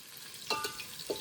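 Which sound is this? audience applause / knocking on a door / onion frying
onion frying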